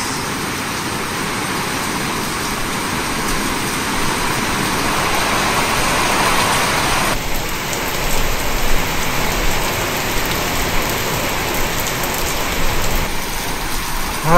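Heavy rain pours steadily with gusting wind, a dense continuous roar that builds slightly louder toward the end, with no voices.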